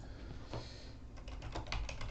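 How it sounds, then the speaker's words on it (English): Rapid typing on a computer keyboard, a burst of close, crisp key clicks that grows busier toward the end, with no voices. "why am I typing?"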